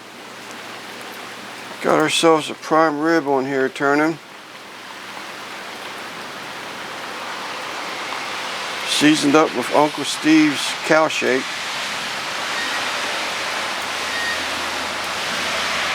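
Heavy rain falls outdoors around a Weber grill rotisserie turning a prime rib, a steady, full hiss of downpour running throughout, interrupted twice by someone talking nearby.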